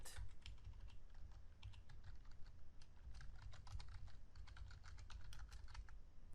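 Steady typing on a computer keyboard while writing Oracle PL/SQL code, a quiet run of quick clicky keystrokes at an uneven rhythm with no talking.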